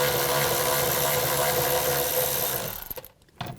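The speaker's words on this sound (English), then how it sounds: "Now I'm going to take these bolts out around the perimeter. I'm going to use a 10mm socket." A power tool or ratchet drives bolts out of the door panel of a 2011–2015 Dodge Grand Caravan with a 10mm socket, a steady loud whir that cuts off abruptly near the end, followed by brief clicks.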